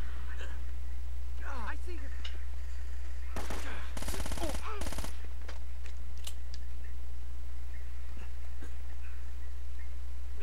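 Enemy gunfire in the action game Uncharted: Drake's Fortune, a few short bursts of shots around the middle of the clip over a steady low hum and game ambience, with scattered clicks and some talk.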